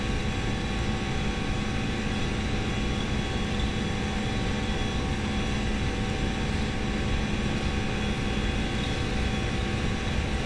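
Aerosoft A320 jet engines at high power during a takeoff roll in a flight simulator, a steady, loud, unbroken roar with a constant whine and no talking.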